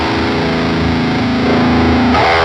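A distorted electric guitar chord rings through an amp set to a Line 6 Insane high-gain tone with scooped mids and boost added, loud and sustained, its character shifting slightly near the end.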